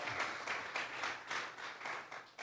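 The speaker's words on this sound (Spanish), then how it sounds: "Vamos a regalarle ofrenda de palmas al Dios de la gloria." Applause offered in a Sunday church service rises in rhythmic pulses, a group clapping in a loose beat at a distance, moderately faint and unbroken by speech.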